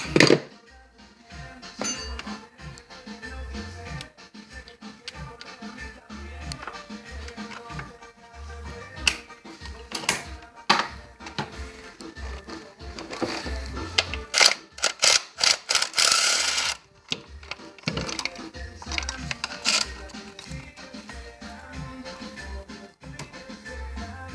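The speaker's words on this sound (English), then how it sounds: "This is the last bolt to remove." The last bolt is worked loose on the transmission of a 2001 Chrysler PT Cruiser with a jack holding the gearbox, producing close metallic clinks and rapid ratcheting clicks in uneven bursts.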